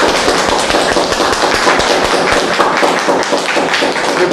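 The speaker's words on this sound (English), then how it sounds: "I said a round of applause for her." A round of applause breaks out for a woman during a comedic classroom-style break scene: dense, continuous clapping from several people, loud and close, steady throughout with no talk over it.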